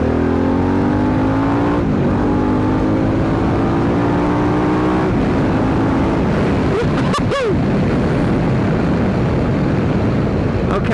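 Harley-Davidson Pan America adventure motorcycle, a 150-horsepower bike, accelerating hard in road mode, its engine note climbing through rising pitch sweeps with gear changes, loud and close under strong wind rush.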